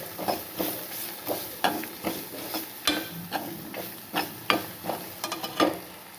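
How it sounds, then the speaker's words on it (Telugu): Grated coconut for chutney fries in a pan with a soft sizzle under repeated scraping stirs, about two strokes per second, near and moderately loud, without speech. "నెక్స్ట్ కొబ్బరి బాగా ఫ్రై అవుతుందండి."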